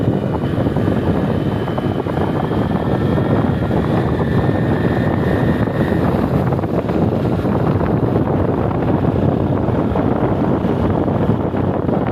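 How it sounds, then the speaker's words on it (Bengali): A motorcycle coasts downhill on a hill road under engine braking, giving a loud, steady drone heavily mixed with wind rush over the microphone for the whole stretch, with no voices. "ইঞ্জিন ব্রেক আমি কোনো কিছু করতেছি না বাইক একা একাই ও চলতেছে"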